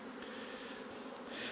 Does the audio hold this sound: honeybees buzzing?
yes